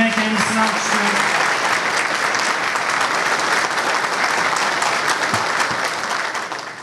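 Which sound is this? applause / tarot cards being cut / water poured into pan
applause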